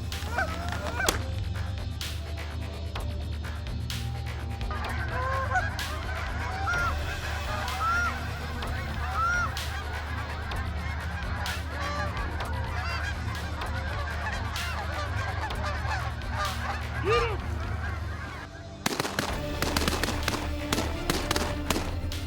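A large flock of geese honks continuously during a waterfowl hunt in open fields, dense overlapping calls with scattered thumps and a burst of sharp knocks near the end.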